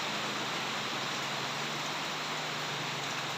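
Steady, dense rain pours down without pause, a broad hiss close around the listener with no voices.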